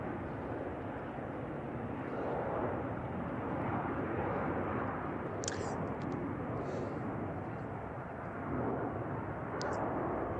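A broad, steady rumble from an airplane at San Francisco Airport, heard from a distance with a few faint higher clicks and chirps over the top.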